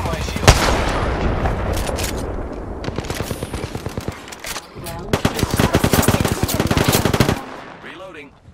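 Video game gunfire: sustained, loud machine-gun bursts with rapid repeated shots, brief pauses between volleys and a dense stretch of continuous firing toward the end.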